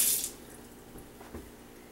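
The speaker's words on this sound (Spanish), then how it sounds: "Llevo mis manos en el agua." A brief splash of hands being washed in water at the start, followed by faint, soft sloshing in a quiet room.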